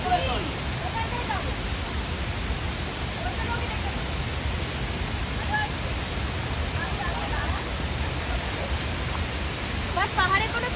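The waterfall at Deb Kund gives a steady, dense rush of falling water that fills the whole stretch at an even level. Faint voices can be heard beneath it.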